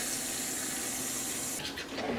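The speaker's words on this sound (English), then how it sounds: "So we want to start with 3 cups of water." Three cups of water run steadily from a tap into a bowl as the base for pizza dough, a loud continuous rushing stream that shifts in tone near the end as the flow changes or stops.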